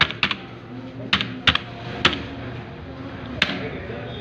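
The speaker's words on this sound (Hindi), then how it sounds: "मो नाम को टाइप करूची।" Taps on a phone keyboard, several sharp separate clicks at uneven intervals, close and fairly loud over a steady background hum.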